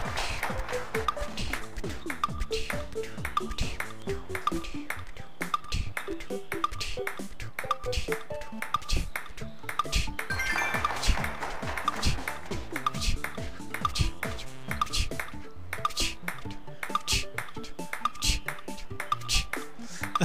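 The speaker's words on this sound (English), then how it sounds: "I don't know why I'm adding these ping pong sound effects" Rapid ping pong ball hits from the Wii Play table tennis game, a steady stream of sharp plinking taps over music-like tones, fairly loud and continuous throughout.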